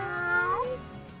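A person's voice imitates a cat's meow, giving one drawn-out, wavering meow that bends in pitch, close and alone.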